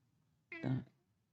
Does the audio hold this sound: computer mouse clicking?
no